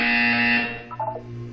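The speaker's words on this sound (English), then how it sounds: "You will hear a buzzer." A steady electronic buzzer in the video game Portal 2 sounds loudly for about half a second, then fades into a soft hum with a brief tonal flutter.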